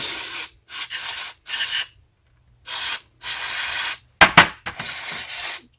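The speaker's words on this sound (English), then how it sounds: "Then just kind of spray it all down." Aerosol carburetor cleaner sprays onto a lawn mower carburetor in several close, hissing bursts of varying length, separated by short silences, with a couple of metallic clinks.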